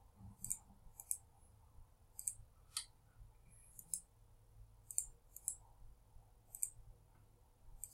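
Crisp computer mouse clicks, some in quick doubles, sound at an uneven pace close by, faint and isolated against a quiet room hum while working in Excel.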